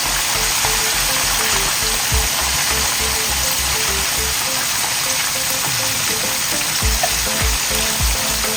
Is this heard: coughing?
no